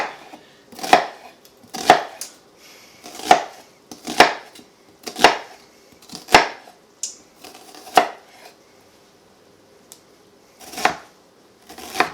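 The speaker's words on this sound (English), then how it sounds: "I always like to slice down the middle a little bit first, just to kind of make dicing it a little bit easier." An onion being diced with a knife on a cutting board, sharp distinct chops landing one or two seconds apart, close and clear with quiet gaps between strokes.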